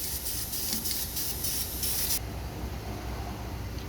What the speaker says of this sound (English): Let me get my rattle can down on, baby.